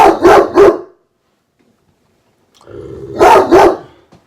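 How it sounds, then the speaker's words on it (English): A dog barks in two close pairs, loud and near, with a silent gap between them and no one talking. "Sorry about that. That's my dog."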